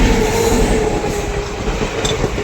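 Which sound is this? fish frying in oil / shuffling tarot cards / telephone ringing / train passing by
train passing by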